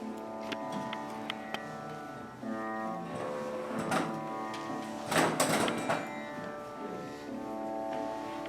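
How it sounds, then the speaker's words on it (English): Sitar with seven main playing strings, three of them drone strings, giving quiet, sustained, buzzing tones with a few plucked notes, heard close and alone. "of which 3 are drone strings that sound like this."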